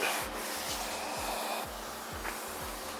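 Fiberglass car hood on a Cadillac CTS-V being sanded by hand with 400 grit sandpaper, a steady close scratchy rubbing in repeated back-and-forth strokes over a constant low background hum.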